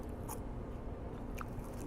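A bite into crunchy fast-food fries from Checkers, a short crisp crunch close to the mic with a second faint crackle, no talking.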